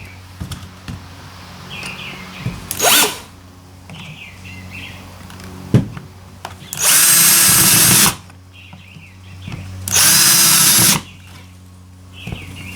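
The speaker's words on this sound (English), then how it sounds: "So I set my drill such that it will stop when it starts to hit enough resistance." A power drill drives screws into a nightstand in short bursts, one brief run followed by two longer loud runs, with handling clicks and faint bird chirps between.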